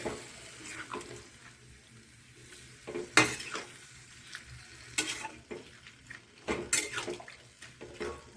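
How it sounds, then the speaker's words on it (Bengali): A curry of cauliflower, turnip and spinach with a little added water is stirred in a pan, giving a wet bubbling hiss broken by several louder clanks and scrapes of a spoon, close and without talk. "এখন ভালো করে নেড়ে চেড়ে দিয়ে কিছু সময় ঢেকে রাখবো।"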